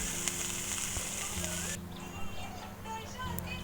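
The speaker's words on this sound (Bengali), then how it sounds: "এই যে নিম ফুল ভেজে নিচ্ছি" Neem flowers fry in a pan with a steady, close hiss and crackle that is loud at first, then drops to a softer sizzle, with a voice faintly present.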